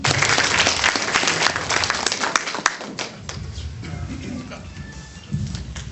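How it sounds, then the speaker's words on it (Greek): Applause from parents and guests at a Greek kindergarten event, dense and fairly loud at first, then thinning and fading as it goes on. "Σας καλούμε να ενθαρρύνετε τα παιδιά με το θερμό σας χειροκρότημα."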